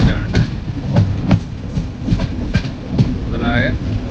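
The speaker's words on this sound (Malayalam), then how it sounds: "പെട്രോളിയം ഒഴിച്ചു കൊണ്ടുപോകുന്ന ട്രെയിനാണ്." A freight train hauling petroleum and other flammable cargo rolls past nearby, its wheels beating out a steady clickety-clack over a low rumble.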